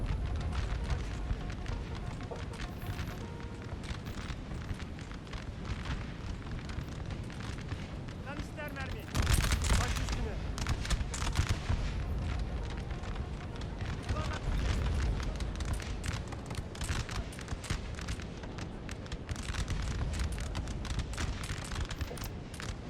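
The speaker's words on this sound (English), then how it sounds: "It takes a long time to prep that cannon." Cannon fire from an 8-pounder artillery piece in the Napoleon Total War video game, booming in dense bursts over a constant roar of battle noise and musketry, with one louder blast standing out midway and someone talking over it.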